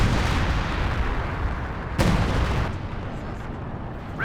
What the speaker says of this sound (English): Doesn't dodge the artillery dropping down here.